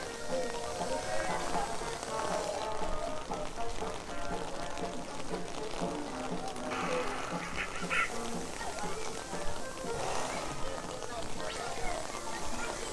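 Steady rain falls at Magic Kingdom, Walt Disney World, a dense, even hiss that runs unbroken from start to finish, with faint background activity from the park mixed in.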